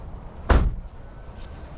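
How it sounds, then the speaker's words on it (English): A single car door thuds shut, a sharp close-by slam that fades quickly into a quiet vehicle interior. "Close this door a second."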